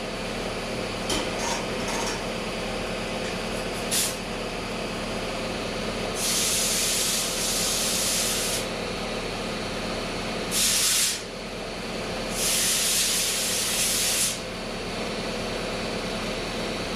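Compressed air blows out Husqvarna chainsaw parts in a shop, giving several sharp hissing blasts of one to two seconds each, loud and close, over a steady background hum.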